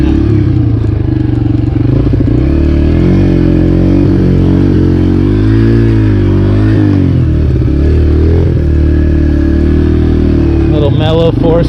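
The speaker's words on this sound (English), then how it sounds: "Mellow 4-stroke power back here on this trail." A 125cc four-stroke motorcycle rides along a trail, its engine a loud, steady mellow drone with gentle rises and falls in revs, close to the microphone and without talking.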